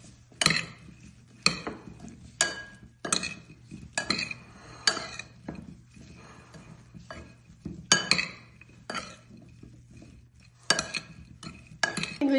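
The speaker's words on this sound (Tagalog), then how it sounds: "I-mix ko na dito sa cauliflower itong spicy. At add ko na siya ng olive oil. Ayan, at mix ko siya." Cauliflower tossed with spices and olive oil is stirred in a bowl with a utensil, giving a steady series of sharp clinks and scrapes, close and alone, roughly one stroke per second with brief pauses.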